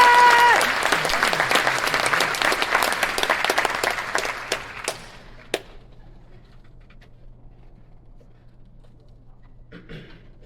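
Loud applause fills a graduation ceremony hall as a speaker is welcomed to the stage, swelling briefly then thinning into scattered claps and fading to near silence.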